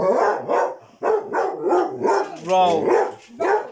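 Several dogs bark in short bursts through a downpour of torrential rain, with a person calling commands to them between and over the barks.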